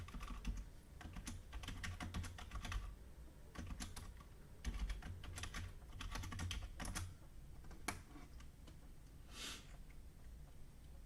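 Rapid clicking of keys on a computer keyboard, coming in bursts with short pauses, quiet and close, with a faint background hum.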